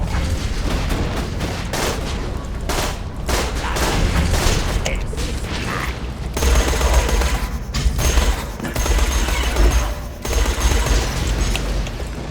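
Machine pistol fire in Borderlands 2 comes as dense, rapid bursts of game gunfire with booming impacts, fairly loud and continuous, with short pauses between volleys.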